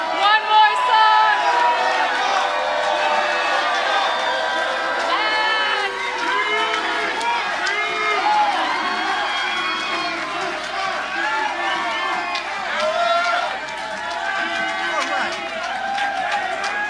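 A theater audience at a concert in Carbondale cheers and whoops loudly and steadily, calling the band back for one more song, with many overlapping voices shouting throughout.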